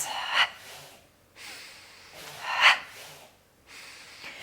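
A person doing an ab exercise lets out soft, breathy exhales through the nose, three of them spaced a second or two apart, close and quiet.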